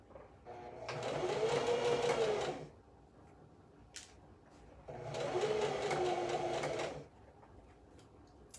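A sewing machine stitches ruffles on a top in two bursts of about two seconds each, a fast whirring rattle with a faint rising-and-falling pitch, separated by quiet pauses and small clicks, close by and without talk.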